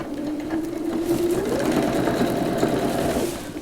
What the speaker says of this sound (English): And I'm just going to sew quite close to the edge, maybe about 1/8 of an inch.